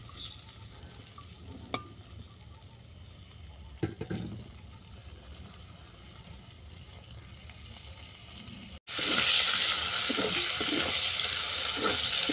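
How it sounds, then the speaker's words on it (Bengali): Cauliflower florets frying in hot oil with salt and turmeric in a kadai, a quiet sizzle with a few stirring knocks that swells into a loud, dense crackle near the end. "লাল লাল করে ভেজে নেব।"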